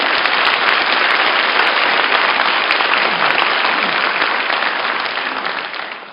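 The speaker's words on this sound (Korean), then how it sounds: "박수 한번 쳐주세요." An audience at a special university lecture breaks into loud, dense applause, many hands clapping steadily for several seconds before tapering off near the end.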